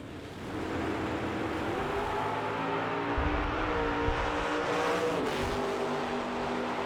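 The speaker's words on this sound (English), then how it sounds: "You can hear the drivers working the throttle" Drag racing cars at the 2020 US Street Nationals drone loudly as the drivers work the throttle, a sustained engine roar with shifting revs and a brief surge midway, heard from trackside.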